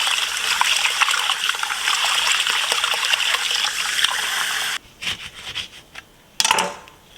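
Water runs steadily into a bowl of rice set to soak for lamb pilaf, a continuous close trickle and splash that stops abruptly partway, followed by a few brief drips and handling knocks.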